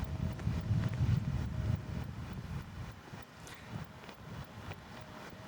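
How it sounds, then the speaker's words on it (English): Steady wind buffets the microphone, a low rumbling roar that surges and eases over several seconds. "because of these windy conditions"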